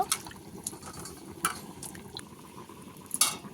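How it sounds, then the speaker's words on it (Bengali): Drumstick flowers being rinsed in a bowl of water, with soft sloshing, light splashes and occasional clinks of the vessel, close and fairly quiet, in a few brief bursts. "জল থেকে ভালো জলে দু চারবার ধুয়ে নেব"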